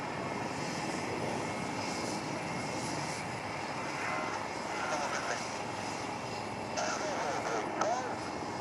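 An LH Mark 4 aircraft, likely a helicopter, performs a flying display at the Aero India 2021 air show, its engine roar steady and loud throughout, with a public-address commentator talking over it.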